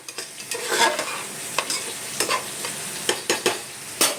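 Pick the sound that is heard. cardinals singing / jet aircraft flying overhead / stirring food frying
stirring food frying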